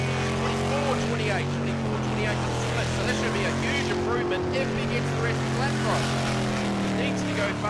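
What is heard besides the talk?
V8 superboat engine racing on water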